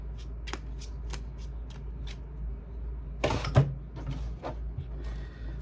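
Tarot cards shuffled by hand in a quiet room, a run of soft riffling flicks and taps followed by a louder burst of cards being bridged and squared, then a few lighter shuffles.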